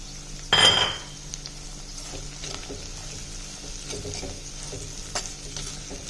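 Pirandai (adamant creeper) sautéing in a pan with turmeric, whole garlic and salt: a loud metallic clank opens the clip, then a steady close sizzle continues under occasional spatula scrapes and stirs.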